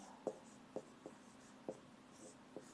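Handwriting while noting discus weights for men and women in a physical education lesson, a series of soft, quiet pen or chalk strokes in an irregular rhythm.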